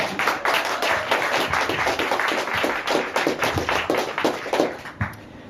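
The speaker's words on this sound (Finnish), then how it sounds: "niin se annettaisiin pienet aplodit" A small crowd at a novel's book launch party gives lively, close applause, with sharp individual claps standing out over several seconds before it dies away near the end.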